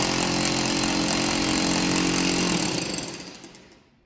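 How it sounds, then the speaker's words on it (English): A power drill bores holes for installing a two-post car lift, a loud continuous grinding hammer-drill roar that holds steady, then winds down and fades out near the end. "Okay, we'll go drill holes."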